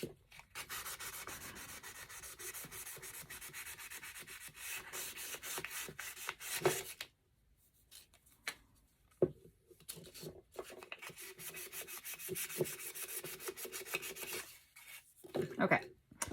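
3M sandpaper rubbed over a picture frame by hand, quick rasping strokes in bursts with a short pause partway through, close and moderately loud.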